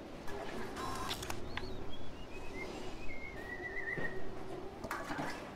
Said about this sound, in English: There's someone whistling inside.